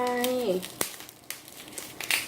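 LISABOX packaging is torn open by hand. A short voice comes first, then a sharp rip and scattered, close crinkling and rustling bursts.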